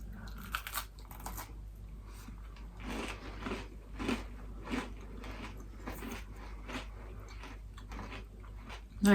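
Aldi cinnamon-coated nuts being bitten and chewed close up, a series of crunchy bites and chewing sounds over a faint steady background hum.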